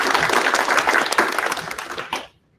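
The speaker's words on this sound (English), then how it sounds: "Let's round of applause." A career fair audience in Bangalore gives a short, dense round of applause that holds steady, then quickly tapers off and stops near the end.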